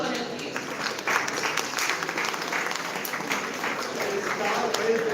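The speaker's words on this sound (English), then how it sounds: "A big round of applause for him, please." An audience at a campus career expo and placement fair applauds, dense steady clapping from many hands filling the whole stretch at fairly loud level.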